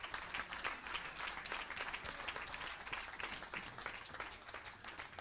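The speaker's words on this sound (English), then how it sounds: "The bronze medal goes to the USA. Taylor Farmer, applause" Crowd applause at a women's 10m air rifle World Cup final after a bronze medal shoot-off, continuous many-handed clapping in an arena, steady and fairly distant, without speech on top.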